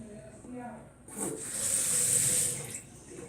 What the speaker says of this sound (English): I'm gonna try to put water in